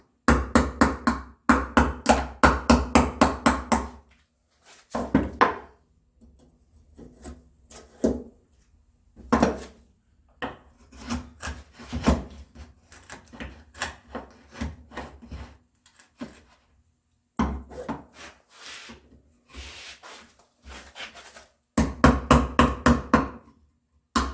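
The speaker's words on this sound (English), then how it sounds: "And again, if you want, you can use your hammer." Repeated sharp hammer taps on walnut wood in quick clusters while cutting shelf dadoes, with pauses and scraping between groups, close and fairly loud.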